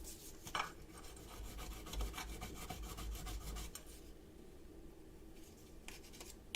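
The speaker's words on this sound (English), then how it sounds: "So we're going to do a little bit of sanding." Sanding a join smooth on a pool cue by hand, a quick run of rhythmic rasping back-and-forth strokes up close, then quieter lighter rubbing with a few short bursts toward the end.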